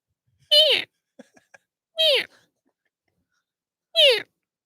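A human voice imitates a marmot with three loud, high-pitched squealing calls spaced about a second and a half apart, with faint clicks between them.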